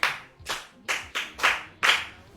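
A small group applauds a child at a Yoruba children's programme with about six distinct, fairly close claps, each a sharp bright burst, spaced unevenly over two seconds, with no talking.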